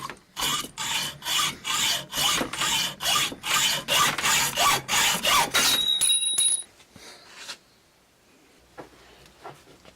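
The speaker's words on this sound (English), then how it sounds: "this chamfering tool or deburring tool for cut bolts when you have these sharp edges on them" A drill-mounted chamfering deburring tool grinds against the sharp edge of a cut bolt in a loud, pulsing run of rasping bursts for about six seconds, then stops, leaving quiet handling noises.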